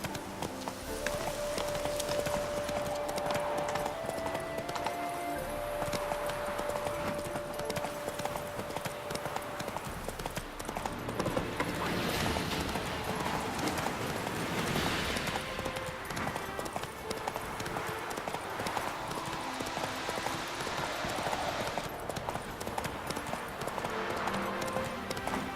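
Roach the horse's hooves clip-clop steadily in The Witcher 3: Hearts of Stone, a continuous rhythmic trot over a busy bed of game music and ambience for the whole stretch.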